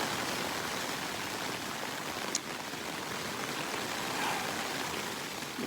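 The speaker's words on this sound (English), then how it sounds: "It's rained on and off all night." Rain falling steadily outside a shelter in the Uinta Highlands after a night of on-and-off showers: soft, even hiss of drops with no pauses and a brief faint tick partway through.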